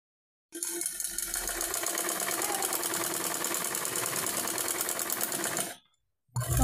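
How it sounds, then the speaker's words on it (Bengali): An electric sewing machine stitches fabric pieces onto a petticoat, a fast, even mechanical whirr running for about five seconds. It starts and stops abruptly and is followed by a brief clunk. "এখন পেটিকোটের সাথে সেই টুকরো কাপড়টিকে অ্যাটাচ করে নেব সেলাই দিয়ে।"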